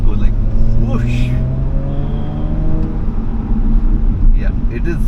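An Audi S5 B9.5 with an APR Stage 1 tune pulls away in Drive, its engine note rising steadily and loud from inside the car, with a brief voice at the start.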